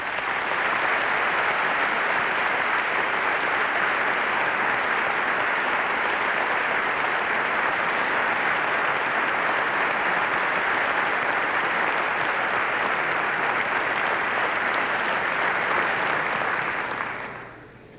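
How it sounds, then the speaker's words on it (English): An audience at the 1997 NASCAR Winston Cup Series awards ceremony gives a round of applause: dense, steady clapping that holds for many seconds at a strong level, then tapers off at the end. "A nice round of applause, please."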